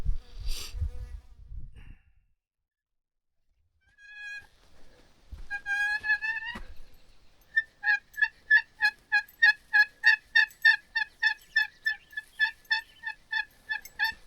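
A wild turkey gobbles on a mountain during a spring hunt: a short distant gobble, then a clearer one, then a long rapid run of sharp repeated gobbling notes that comes in close and loud, with no talking.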